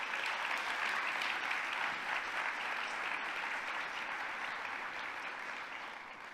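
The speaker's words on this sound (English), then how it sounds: "Let's give them a round of applause." An audience claps at a global student-competition finals event, giving a steady, even round of applause from start to finish that fades slightly toward the end.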